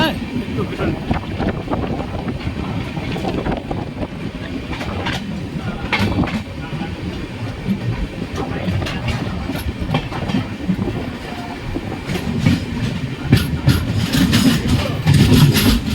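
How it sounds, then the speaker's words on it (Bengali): Express train from Digha to Puri, the Samudra Kanya, rolling into Kanthi station: steady rail rumble and clickety-clack of the carriages heard from inside the train, with intermittent wind noise and voices over it. "এই কাঁথি প্ল্যাটফর্মে এখন আমাদের ট্রেন ঢুকছে"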